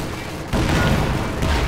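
Anti-tank gun and artillery fire in Company of Heroes 2 comes as a dense, rumbling wash of booms. A heavy blast swells in partway through and keeps the din loud, with a further thump near the end.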